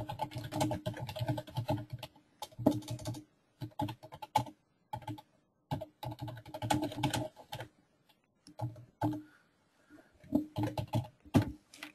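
Job details typed on a computer keyboard, with bursts of rapid close key clicks separated by short pauses, crisp and alone without speech.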